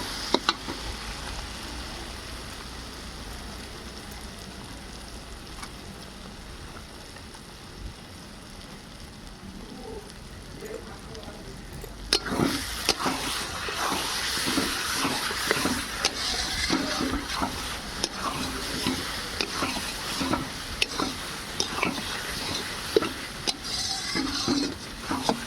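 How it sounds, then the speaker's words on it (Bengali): Spices and large potato pieces fry in oil in a big pot for a rooftop winter picnic, a faint hiss at first, then a sudden loud, dense sizzle with crackling and repeated stirring scrapes, close and without voices. "সেই জন্য মশলা কষানোর সময় আলু দিয়েছি।"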